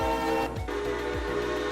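Railroad video game train running along, a steady low engine rumble with rhythmic repeating low pulses and sustained tonal hum throughout, moderately loud with no talking.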